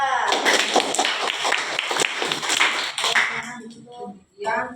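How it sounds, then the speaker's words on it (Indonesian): A primary school class claps for Group 2 after a science lesson on plant reproduction, a burst of rhythmic, fairly close clapping that fades out near the end, followed by a brief voice. "Beri tepuk tangan dulu buat kelompok"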